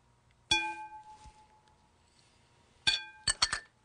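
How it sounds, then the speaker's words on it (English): A whisk clinks against a glass bowl while mixing brisket sauce of coffee, Worcestershire sauce, salt, black pepper and hot sauce. One bright ringing clink comes first, then a quick close cluster of clinks near the end. "Whisk the ingredients together until the salt crystals dissolve"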